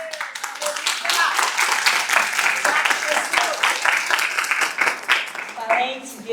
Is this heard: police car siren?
no